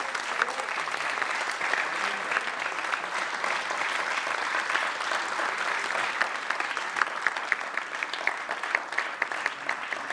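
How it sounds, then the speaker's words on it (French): A concert audience applauds young performers after a finalist award at a Mozart competition, with steady sustained clapping for about ten seconds and a few faint voices in the crowd. "Sous vos applaudissements."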